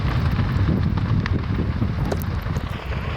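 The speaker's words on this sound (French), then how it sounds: "Il a encore changé de sens le vent." Wind shifting direction during a wildfire blows in a continuous loud rumbling roar, buffeting the microphone with gusty surges throughout and no speech.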